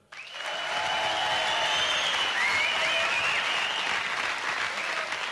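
Concert audience at a 1977 rock show applauds loudly after a band member is introduced, a dense sustained roar of clapping and cheering that swells in quickly and holds.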